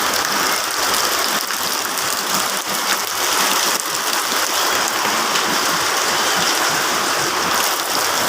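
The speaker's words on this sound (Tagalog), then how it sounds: "At hindi pa kusog sa uwan guys" Rain falling in a dense, unbroken hiss, loud and close, with a faint mechanical ticking mixed in and no voices.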